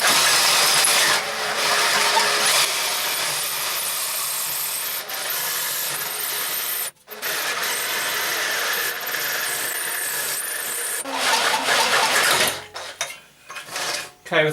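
Hole saw cutting through the metal plate of a Yamaha MT-03 (R3) exhaust back box, a continuous loud grinding whine that runs steadily with one brief pause and ends as the cutter breaks through.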